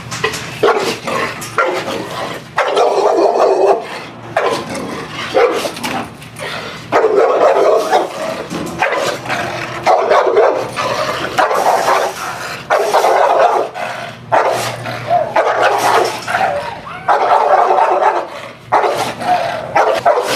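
An American Bulldog barks aggressively from a kennel run in loud, rapid bursts with brief pauses between volleys, close to the listener and continuous for the whole stretch, without any talking over it.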